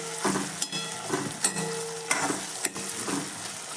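Green tuver beans and papdi are stirred into tomatoes frying in oil, making a steady sizzle broken by regular scraping stir strokes, close and fairly loud with no voices.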